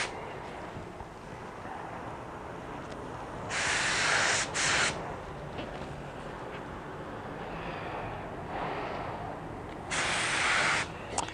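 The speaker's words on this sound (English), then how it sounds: "I'm really embarrassed about that spray pattern I just put down" Bursts of compressed spray from a paint spray gun laying down coats on a BMW E46, two distinct hissing passes of about a second each over a steady low background rumble, fairly close.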